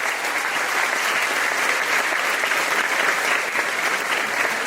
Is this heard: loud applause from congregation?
yes